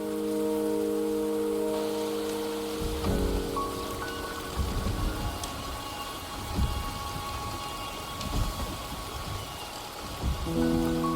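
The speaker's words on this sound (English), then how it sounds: "The rain is subsiding, and the sky will soon clear." Steady rain falling in the video game Wuthering Waves, a constant hiss with faint distant rumbles, layered under a soft sustained musical tone, with no voices.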